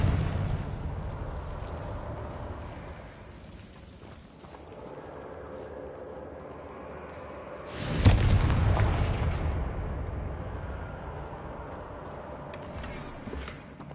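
A Confringo spell explodes in the PS5 game Hogwarts Legacy as a booming burst that flares up partway through over a rumbling battle background, then rolls away gradually.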